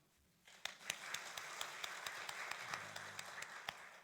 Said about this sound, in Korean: 우리 한번 박수